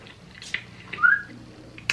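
A pet bird gives short whistles: a few scattered chirps, then one clear rising whistle near the middle and a brief sharp note at the end, close by in a quiet room.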